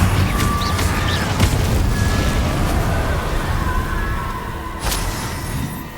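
A fire spell cast in the Hogwarts Legacy video game, set against a dense, continuous wash of game noise with several sharp bursts and booms. The fiery blast is loudest near the end.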